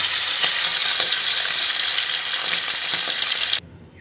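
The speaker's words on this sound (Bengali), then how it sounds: "প্রথমে একটু মাছগুলিকে হালকা করে ভেজে নেবো, একদম হালকা, যাতে আমাদের তেলটা একটু বেরোয়।" Fish, hilsa, fries lightly in hot oil in a home kitchen, giving a steady loud sizzle with faint stirring clicks that cuts off abruptly near the end.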